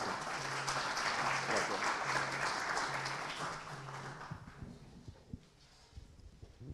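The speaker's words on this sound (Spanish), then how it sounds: "Para el escribano Encina, por favor, un fuerte aplauso." An audience at a notarial lecture class gives notary Avelino Encina a strong round of applause. The full clapping lasts a few seconds, then tapers off to scattered claps, and a faint repeating low beep sounds underneath.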